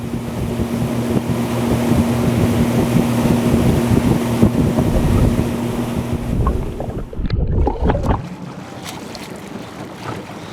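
A rescue boat from a township fire department runs on open water during a drowning-victim drill, its motor droning steadily under heavy wind buffeting, then breaking up into splashing and gusts near the end.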